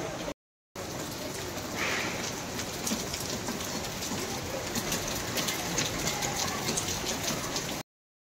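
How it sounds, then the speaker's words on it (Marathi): Steady rain falls on Lakshmi Puja day of Diwali, a dense, even patter on surfaces that continues throughout without talk. "लक्ष्मीपूजनच्या दिवशी सुद्धा पाऊस पडतो"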